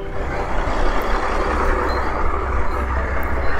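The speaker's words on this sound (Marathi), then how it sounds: "ट्रक." A truck on a highway near Jaipur in Rajasthan, its engine a steady, loud rumble with traffic noise that holds throughout and no talk over it.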